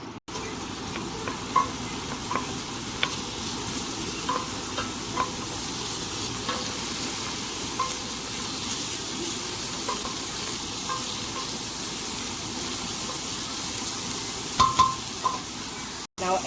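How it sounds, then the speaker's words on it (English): Onion and garlic sautéing in two tablespoons of grapeseed oil for chili bean soup, a steady low sizzle with occasional stirring scrapes and faint clicks, heard alone without talk. "First we're gonna saute the onion and garlic in 2 tablespoons of grapeseed oil, and we're gonna saute it until fragrant."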